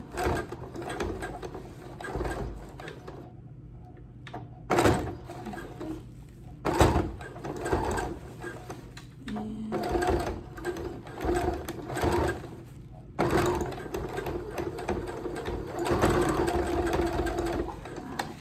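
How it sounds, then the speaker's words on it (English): A sewing machine back stitching fabric while sewing ruffle socks: bursts of rapid mechanical whirring with short pauses and clicks between runs, close and moderately quiet, with no talking. "I am just going to sew it down. Of course, we're going to start off back stitching it."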